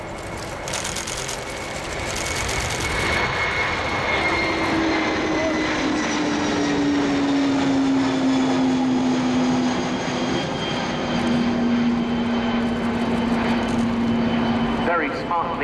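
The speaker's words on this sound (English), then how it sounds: "rolling now is the Kawasaki P-1" Kawasaki P-1 four-jet maritime patrol aircraft of the Japanese Maritime Self-Defense Force rolling for takeoff at an air show, a loud sustained jet roar with a steady whine that swells and holds, under a commentator's talk.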